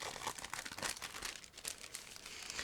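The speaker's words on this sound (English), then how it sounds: "And I will take it out of the plastic bag." Crinkling plastic bag as a part from a Meng 1/24 McLaren MP4/4 1988 model kit is pulled out, close and steady crumpling rustles throughout with no talk.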